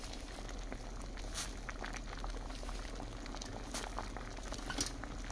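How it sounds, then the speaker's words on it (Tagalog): A pot of mung bean soup with shrimp, ampalaya leaves and coconut milk bubbles at a steady boil, with continuous gurgling and soft popping, close and unbroken, with no voices. "At ito na siya, kumukulo"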